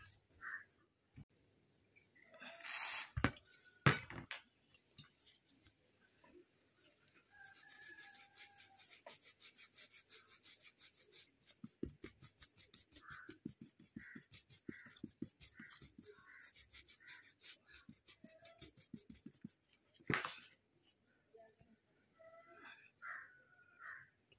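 A mobile phone display is wiped clean with isopropyl alcohol. Faint, close rubbing strokes repeat in a quick rhythm, broken by a few louder knocks and handling bumps.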